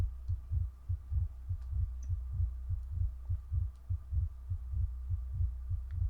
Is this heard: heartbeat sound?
yes